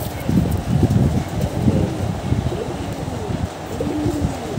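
Giribaz pigeons, a black-green pair, coo in low repeated phrases close by, with a steady background hiss and faint chirps from other birds in the loft.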